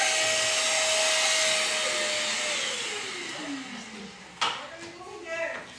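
A household vacuum cleaner runs with a loud steady whine, then winds down in pitch as it shuts off, followed by a few clunks and voices in the room.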